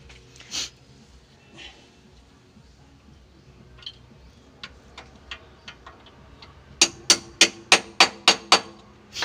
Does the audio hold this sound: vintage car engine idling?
no